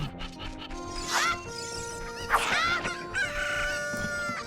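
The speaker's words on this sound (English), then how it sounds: "If you attack the chickens too much, they will murder the shit out of you." Rooster crowing from the video game Ocarina of Time: a loud cock-a-doodle-doo rises twice over looping game music, with clucking in between.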